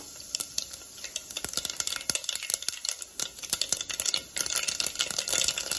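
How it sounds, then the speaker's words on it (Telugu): Mustard seeds and cumin fry in hot oil for a palak egg tomato curry, giving a steady crackling sizzle broken by sharp popping ticks and a few spoon stirs, close and fairly loud. "ఆవాలు, జీలకర్ర ఫ్రై అయినాయి"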